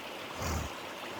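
Water flowing in a mountain creek on a hot afternoon at about 3,300 feet, a brief soft rushing swell that rises and fades, heard alone without talk.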